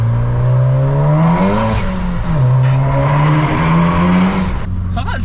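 The engine of a 500-horsepower VW Polo revs hard inside a small tunnel, its loud booming note rising and falling through several gear changes, echoing close and continuous throughout.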